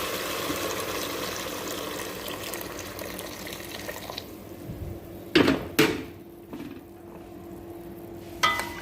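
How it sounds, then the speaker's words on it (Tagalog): Hot water is poured into a cooking pot for rice in a home kitchen, a steady splashing pour fading out, followed by a few sharp knocks and clatters of utensils. "lagyan natin siya ng tubig"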